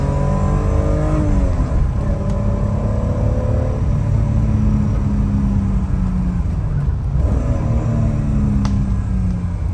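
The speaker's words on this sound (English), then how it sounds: "Get up to speed here and get through the gears a little bit for you." A 1988 BMW 325is E30 with a five-speed manual accelerates hard through the gears, its engine rising in pitch, dropping at each shift, then climbing again, loud and close from inside the car without any speech.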